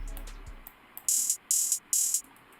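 Sparse programmed drum beat with a deep kick near the start, followed by a hi-hat roll whose velocity rises and falls in quick bursts of bright ticking, fairly quiet and without voices.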